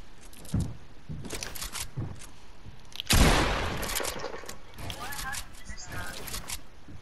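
Scattered gunshots in Fortnite, a few sharp cracks and one louder blast partway through, heard among game sounds while people talk.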